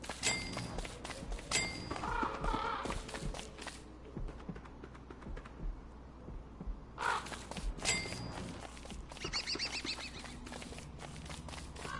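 Crow-like caws from a bird in a PS4 video game ring out in bursts over a steady game background, mixed with light clicking that resembles tapping or footsteps, fairly faint overall.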